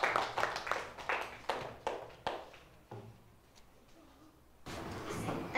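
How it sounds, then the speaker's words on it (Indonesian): Class of year-five pupils clapping hands together for a presenting group, a burst of quick scattered claps that thins out and stops, with a little talk at the very end. "Okay, tepuk tangan kat mereka."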